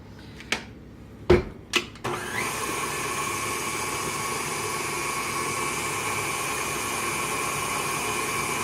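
A stand mixer beats cookie dough after a few sharp knocks and clicks, then runs as a loud, steady motor whine with a churning rumble that holds unchanged to the end.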